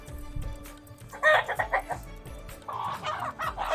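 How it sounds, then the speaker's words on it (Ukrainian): Several chickens cluck close by in short bursts, some louder squawky calls rising and falling over a quiet outdoor background. "Кури тут як тут."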